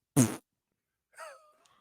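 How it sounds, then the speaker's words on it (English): A fart noise sound effect played during basketball commentary on a Miami Heat loss to the Grizzlies: one short loud blast, then a second quieter, wavering squeak after a pause. "Give him a fart noise"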